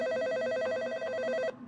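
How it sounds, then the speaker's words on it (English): A telephone rings once in a long electronic trill that cuts off abruptly, leaving a short reverberant tail as it carries down an empty hallway. "I heard a phone ring echo from the other end of the hallway."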